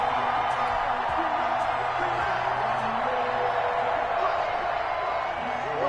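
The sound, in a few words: football stadium crowd cheering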